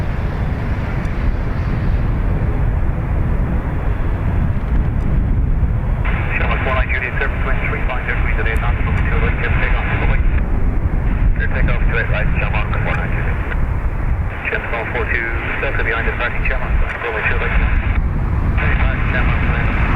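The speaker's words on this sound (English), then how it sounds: "Aer Lingus off to Faro." An Aer Lingus jet departing Dublin Airport, bound for Faro, gives a loud, steady roar that swells and fades in long broad waves for the whole stretch, with people talking over it.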